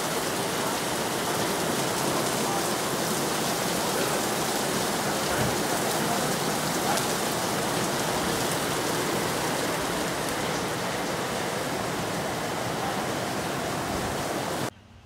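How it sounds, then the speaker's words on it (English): Torrential rain pours down steadily and loudly near a pool by the sea, a dense continuous wash of falling water that holds for about fifteen seconds before cutting off abruptly. "Just after that party boat headed out, the torrential rains poured down."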